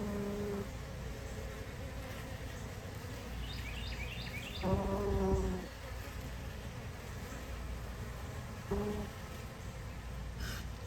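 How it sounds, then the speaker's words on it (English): Bees buzzing around flowers in a backyard garden, a steady close insect drone that swells when one passes near, along with a few faint thumps and light handling noise. "man, look at those bees."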